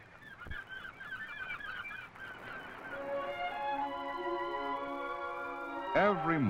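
Geese or other large seabirds honking along the Oregon Pacific coast, a dense overlapping chorus of calls over steady surf-like background noise, with louder, closer honks toward the end.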